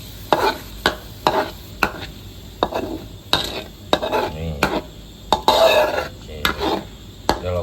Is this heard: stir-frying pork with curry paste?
yes